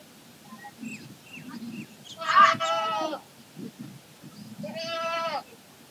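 A young goat kid bleats twice, each call loud and wavering, with faint background voices and rustling between the calls.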